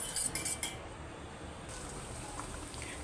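A hand whisk beats a pudding mixture in a bowl, with a quick burst of clinking metal-on-bowl strokes at first, then a faint, continuous swishing, close and quiet, no speech.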